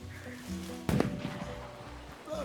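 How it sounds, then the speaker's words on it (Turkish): Paint bombs burst in Red Dead Redemption 2: one sharp, loud pop stands out against faint game ambience, followed by a few softer crackling after-bursts. "Patlayan boyalar."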